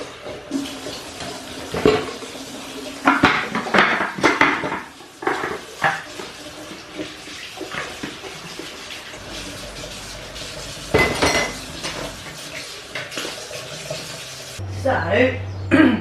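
Water runs and splashes into a sink amid clattering dishes and scraping, in intermittent close bursts.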